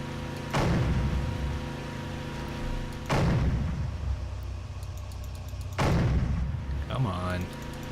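Three loud, booming weapon blasts from a war video game, spaced a few seconds apart, each followed by a long rumbling decay, with a faint voice briefly near the end.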